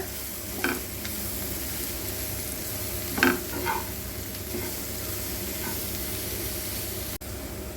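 A paneer filling seasoned with pepper and salt is stirred in a pan. A soft, continuous sizzle runs throughout, with a handful of brief spoon scrapes early on and then quiet frying.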